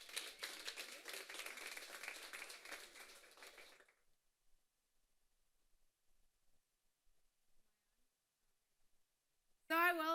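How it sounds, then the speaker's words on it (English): A live audience at a demo night gives a round of applause, a few seconds of scattered, fairly faint clapping that cuts to near silence, followed by a short burst of speech at the end. "Let's give her a round of applause."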